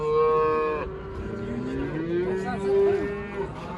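Purebred Simmental cattle at a livestock market in Sokuluk, Kyrgyzstan, moo in long, deep, drawn-out calls, one after another, close by and fairly loud with no talking.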